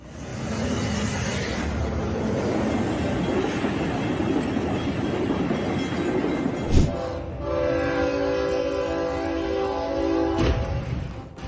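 An MRS freight train rumbles past loudly and close, its horn sounding in long steady blasts over the rolling of the wagons.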